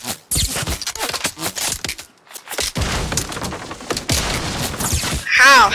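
A new gun fires in Fortnite during a 1v1 match, with rapid bursts of sharp shots and scraping impacts close up, plus a brief gap and a short tonal in-game cue near the end.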